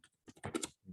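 Fingers tap on a computer keyboard while typing in a word processor, a quick burst of close, crisp key clicks in an irregular rhythm.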